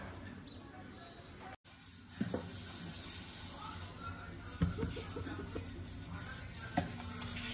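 Tea with milk simmers in a pan, giving a steady soft hiss and bubbling close by, with a few light clinks and a brief dropout partway through.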